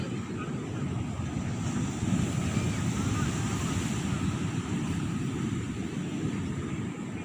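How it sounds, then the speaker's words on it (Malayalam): Steady, broad wash of sea waves at the pier on Alappuzha beach, continuous surf with wind rumbling across the microphone, no distinct breaks between swells and no voices. "ഇതാണ് നമ്മുടെ ആലപ്പുഴ ബീച്ചിലെ കടൽപ്പാലം"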